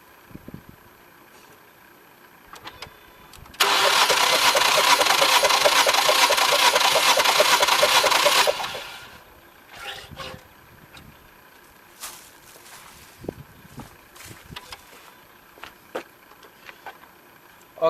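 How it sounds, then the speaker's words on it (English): Starter cranking the engine of a 2012-2015 Ford Focus for a compression test, fuel pump disabled: one loud, steady burst of rapid rhythmic churning lasting about five seconds, then it stops and only faint handling noises remain. "I'm gonna crank it about 4 or 5 times."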